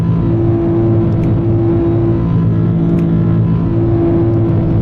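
A Nissan 370Z Nismo engine drones steadily and loudly, a constant close hum from inside the car with no clear rev changes or downshift blips standing out.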